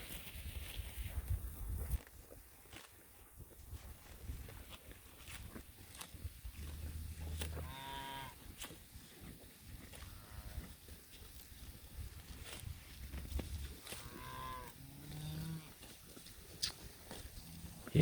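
Repeated soft ripping and tearing of grass as a cattle mob grazes close by on snowy, icy pasture in October, with rustling and an occasional low moo outdoors.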